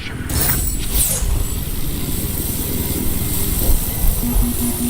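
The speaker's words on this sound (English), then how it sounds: "There's an enemy helicopter east of your position." An enemy helicopter in a video game whirs with a steady, loud rotor and engine drone, joined by mechanical clatter and game effects, with no talk in the clip.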